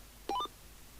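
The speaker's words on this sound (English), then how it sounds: "And there goes the phone." A telephone gives a single short electronic chirp that is clear and fairly close, lasts about a fifth of a second, and is followed by quiet.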